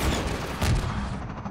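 Single loud launch blast of an RPG rocket launcher in Half-Life 2 game combat, a broadband boom near the middle amid steady noisy action sounds.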